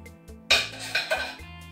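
A spoon clinks and scrapes inside a bottle as yogurt starter is stirred into milk, a few short bright knocks over a quiet background hum.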